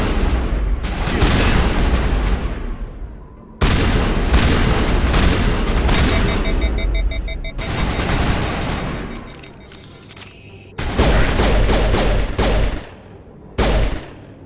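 Gunfire rattles through a Mass Effect video game battle: dense, loud bursts of rapid shots and booming impacts in repeated volleys, separated by short lulls.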